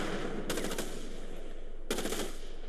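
Two short bursts of automatic gunfire in Starship Troopers: Terran Command, each a quick rattle of rapid shots separated by a pause over a low ambient background.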